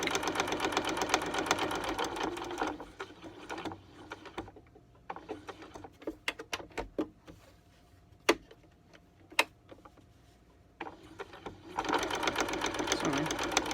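Domestic sewing machine stitching all the way around through several layers of fabric, running in steady rapid bursts at the start and end with quieter ticking, clicking handling sounds in between, close and clear, with no talking.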